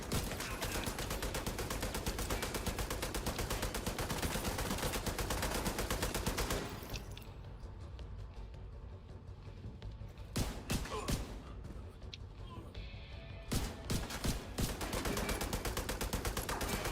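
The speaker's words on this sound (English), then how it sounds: "Killing them with a pistol for the fun of it." Rapid pistol gunshots in The Division 2 crack out in dense, continuous bursts for several seconds, drop away into a quieter stretch broken by a few isolated shots, then resume in loud clusters near the end.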